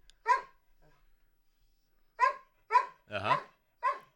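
A dog barks several short, sharp times, spaced out with pauses between bursts, fairly close and moderately loud, with one longer rougher yelp among them; no talk over it.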